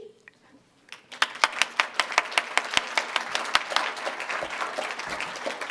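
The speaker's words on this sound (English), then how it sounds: "I'd just like to give a round of applause to the two student organizations sponsoring us here today" Audience applause at a university debate between atheist and theist speakers, starting after a brief quiet moment and building into sustained clapping from a crowd, fairly close and steady to the end.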